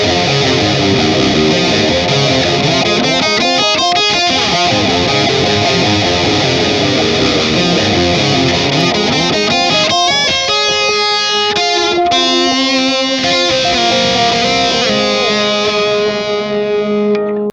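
Distorted electric guitar from an amp modeler run through a JOYO Cab Box, playing chords and melodic lines soaked in a grainy, lo-res delay, repeats trailing behind each note over steady sustained tone.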